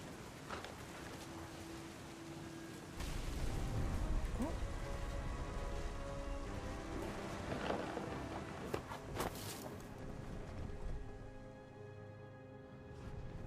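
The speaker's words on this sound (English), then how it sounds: "The thunder sounded much too close and full of angry power." Rain falls steadily throughout a stormy scene in the video game What Remains of Edith Finch, with a deeper rumble of thunder building mid-clip and scattered sharp drops and knocks; no one speaks.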